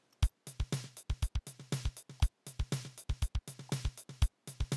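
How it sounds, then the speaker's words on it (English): A looping drum-machine beat with soft, quiet snare taps tucked between louder kicks and hits, in a busy, even rhythm with no voices. "we've got ghosted snare drum notes that sound like this"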